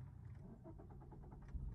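Manual car engine restarting after stalling during an uphill driving lesson, a faint low rumble settling into a soft idle.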